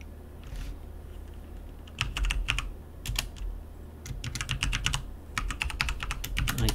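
Someone types a command on a computer keyboard, with scattered keystrokes at first and then faster runs of crisp clicks. The typing is close and clear, with no talk over it.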